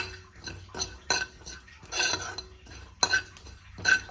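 Cumin seeds being dry-roasted in a pan, with several distinct scraping and stirring strokes and light clinks of a utensil against the pan, close and fairly quiet, no talking.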